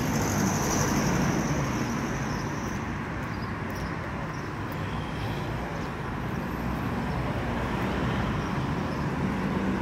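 Bumper-to-bumper city-centre road traffic forms a dense, continuous roar of engines and tyres, steady and fairly loud with no distinct individual vehicles or voices.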